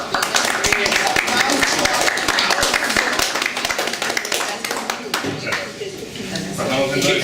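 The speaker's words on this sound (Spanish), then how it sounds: "Un aplauso, por favor." Seminar audience claps after a presentation, a dense burst of applause that thins out toward the end, with some talking underneath.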